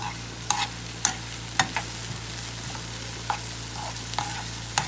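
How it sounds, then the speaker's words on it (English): Onions cook in a pan for a spicy Senegalese onion sauce with red pepper flakes: a soft, steady sizzle runs throughout, broken by sharp utensil taps and scrapes against the pan at irregular intervals. "let our onions cook and become tender"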